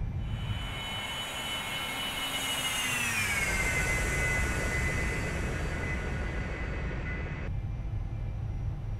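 Twin jet engines of a Carenado S550 Citation II in X-Plane 11 whine steadily in a broad, humming drone, their tones sliding downward as power eases to climb setting, then cutting to a quieter hum near the end.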